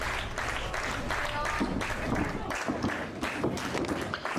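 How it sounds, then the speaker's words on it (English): Wrestling crowd at a match giving a standing ovation for Omega, a dense roar of clapping and stamping thuds that holds steady and loud throughout, with scattered shouts mixed in. "You hear the crowd giving a standing ovation for Omega."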